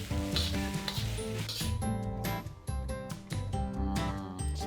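Vegetables fry for Thai fried rice in a hot pan, a loud steady sizzle with crackles and intermittent scraping, and no voices.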